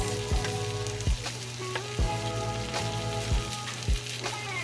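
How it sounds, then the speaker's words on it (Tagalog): Onions sizzling in a pan after a salmon steak has been cooked, a continuous crackling fry with several sharp spoon knocks and stirs against the pan, close and fairly loud, no talking. "Yan na lang yung lutuin natin ating sibuyas."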